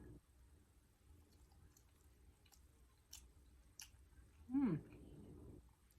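A bite of moist zucchini bread is chewed close up, with soft faint mouth sounds and a brief louder bite or swallow near the end, with no talking.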